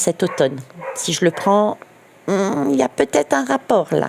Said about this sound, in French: j'ai mon chien là qui aboie